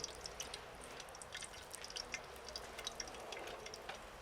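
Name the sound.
fritter batter frying in hot lard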